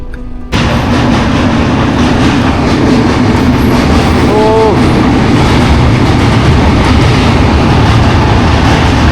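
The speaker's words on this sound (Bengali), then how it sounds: "এই যে আমার পেছনে যে ট্রেনটা দেখতে পাচ্ছেন, এটা হচ্ছে আমাদের ভারতবর্ষের সব থেকে লং ডিস্টেন্স ট্রেন" The Coromandel Express, a long-distance train running from Chennai to Kolkata, rumbles steadily and loudly on the rails after an abrupt onset, with a brief squeal of wheels midway.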